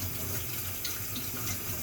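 Tap water runs steadily from a faucet to rinse the roots of a plant being moved from soil to semi-hydro, a close, continuous splashing stream with no talk.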